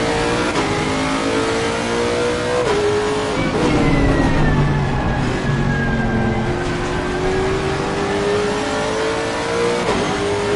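A race car engine from the ACC (Assetto Corsa Competizione) racing game revs hard and shifts repeatedly, its pitch climbing and dropping through gears with a continuous loud drone and no talk.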